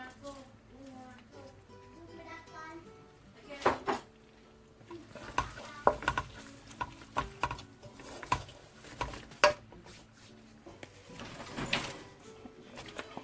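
Chicken qeema is stirred in a pan, with a spoon clattering and scraping against metal in irregular close knocks and a light sizzle, while a voice talks over parts of it.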